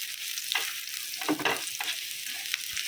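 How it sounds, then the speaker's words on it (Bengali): Garlic frying in oil with kalonji and chilli, a continuous close sizzle broken by a few scraping stirs, with no voices. "রসুন মেখে আমি এখন ভেজে নেব মেখে তেলের সাথে"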